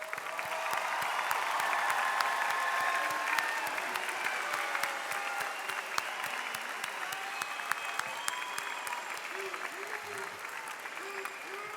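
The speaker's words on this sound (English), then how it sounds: "How about we give this great class another round of applause?" High school graduation crowd applauding the graduating class, a long sustained round of many hands clapping in a large hall, with scattered cheers and voices mixed in under the steady patter.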